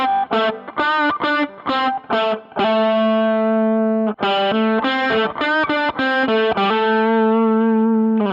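Distorted electric guitar plays short, detached staccato notes with brief silent gaps between them, later shifting into longer sustained notes, loud and close with no voices.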